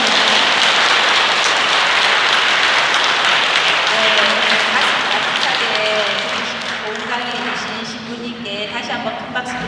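Loud applause from an audience at a Catholic Advent lecture, dense clapping that sustains for several seconds before tapering off, with faint voices emerging underneath as it dies down.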